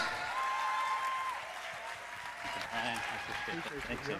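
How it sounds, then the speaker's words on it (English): An audience at a talk on Kangen water gives a round of applause for the guest doctor, with the clapping fairly faint beneath a voice speaking over much of it. "We need to really give him a round of applause"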